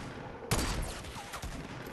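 A single sharp sniper rifle crack in a video game, with a quick echoing decay and faint scattered impact sounds after it.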